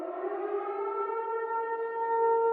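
A civil defense siren from a Silent Hill styled ad wails loud and sustained, its tone holding steady and swelling slightly toward the end, with nothing else heard.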